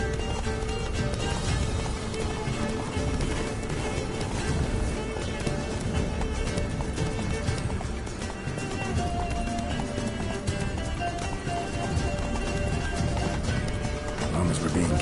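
Roach the horse gallops in a PS4 video game, a steady clip-clop of hooves running under dense game music and effects, with voices talking over the top throughout.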